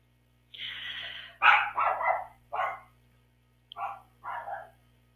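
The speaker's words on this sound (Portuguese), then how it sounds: "o cachorro está agitado aqui." An agitated dog barks in a series of about six sharp, close barks in two clusters, loud and alone over a faint electrical hum.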